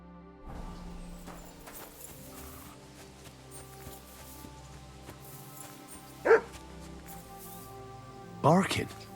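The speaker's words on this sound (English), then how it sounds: "barking." A dog barking in the medieval video game Kingdom Come Deliverance 2, with two distinct bark bursts, the second a quick double, over a steady bed of game music and ambience.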